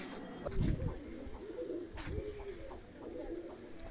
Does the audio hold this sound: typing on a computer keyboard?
no